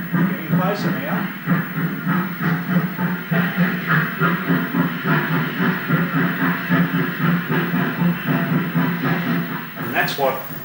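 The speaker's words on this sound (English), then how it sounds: "That's what it was like to stand beside the track when a steam engine came past." A steam locomotive passes close beside the track, with loud rhythmic chuffing and clanking building steadily, and a brief shrill whistle blast near the end.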